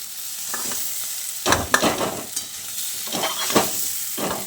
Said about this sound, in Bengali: আলু গায়ে আমি হালকা কালার ধরিয়ে আলুটাকে ভেজে নিয়েছি